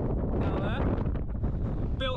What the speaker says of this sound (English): So it's a bit windy up here today